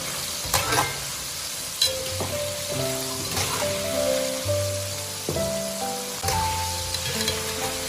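Tofu pieces fry in hot oil in a wok, a steady close sizzle with occasional stirring clinks and scrapes, no talk over it.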